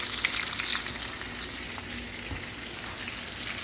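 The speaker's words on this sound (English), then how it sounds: "Now let's drain off this grease right quick into this." Hamburger grease draining off a pan, a steady close sizzling and frying hiss with soft crackles throughout, no talking.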